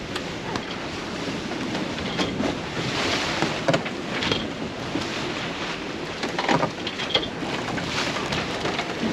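Sailboat under sail crossing a bar through waves, steady rushing water and wind buffeting the microphone with surges of spray, continuous and fairly loud, no talking.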